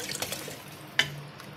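Roughly three cups of water poured into mash (urad) dal for cooking in a pressure cooker, a soft, quiet splash with a brief sharper splash partway through.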